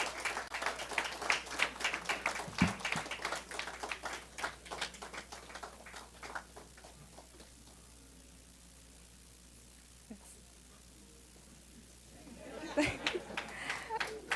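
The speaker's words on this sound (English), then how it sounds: "Once more, a round of applause for these two hard workers." An audience claps at an awards ceremony in a ballroom, steady applause for about seven seconds that dies away into quiet, then a short fresh burst of clapping near the end.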